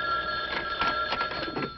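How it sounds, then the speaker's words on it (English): Telephone bell rings steadily and fairly loud for under two seconds, a continuous metallic trill with no voices. "Phone. Where's the phone?"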